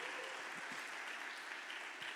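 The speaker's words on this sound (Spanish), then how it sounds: "¿No das un fuerte aplauso a Jesús?" Church congregation applauding a Spanish-language sermon: steady, dense clapping that fills the space evenly and holds at the same level throughout, with no voice over it.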